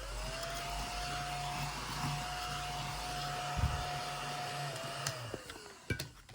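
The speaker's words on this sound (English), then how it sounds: "Let me get my handy dandy vacuum." A handheld vacuum cleaner runs with a steady whining motor drone and a constant hum for several seconds, then winds down near the end amid a few clicks and handling knocks.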